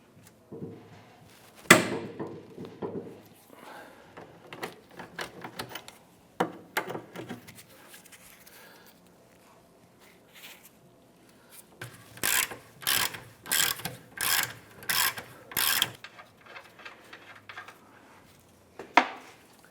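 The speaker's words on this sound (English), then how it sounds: "I'm going to use a 22mm socket with our breaker bar on the nut side of this bolt." A 22mm socket on a breaker bar loosens the trailing arm bolt nut on a 2008-2013 Nissan Rogue rear suspension, giving sharp ratcheting clicks in short bursts, with metallic clanks between them and quiet gaps.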